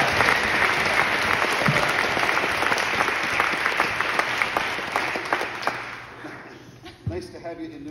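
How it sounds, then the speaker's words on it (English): Audience applause at a live comedy show on tour in Newfoundland, steady dense clapping from a crowd that gradually thins and fades, with a voice speaking at the very end. "So a round of applause."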